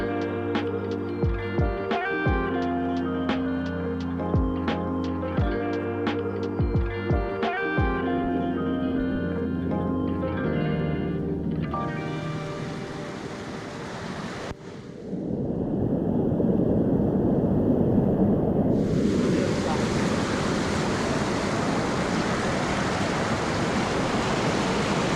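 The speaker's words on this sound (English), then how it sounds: "Here we are at the Cascate del Mulino in Saturnia." Rushing thermal waterfalls at Cascate del Mulino, the Old Mill Falls in Saturnia, Tuscany, form a steady broadband roar of falling water, with softer music or tones early on before the water becomes louder and fuller.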